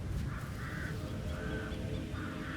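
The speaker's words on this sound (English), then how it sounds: "Any of those birds gone?" Several crows caw in the video game Hitman 3, a few drawn-out calls at a moderate distance over a low ambient rumble.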